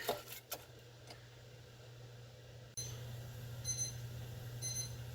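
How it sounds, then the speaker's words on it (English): The kitchen timer on a Cuisinart 4-cup rice cooker goes off, giving a few faint, evenly spaced electronic beeps over a steady low hum and background hiss. "so there goes the timer"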